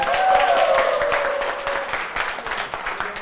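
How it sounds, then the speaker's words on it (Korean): Audience applause fills a hall at a cosmetics business seminar, a dense, steady patter of many hands clapping for a presenter, holding loud for several seconds and then easing slightly. "큰 박수 부탁드립니다"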